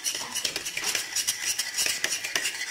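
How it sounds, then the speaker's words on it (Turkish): A milk pudding mixture is stirred in a pot on the stove until it boils, with a spoon scraping and clinking against the pot in a steady, quick rhythm, close and fairly clear with no talking. "Kaynayana kadar karıştırıyorsunuz."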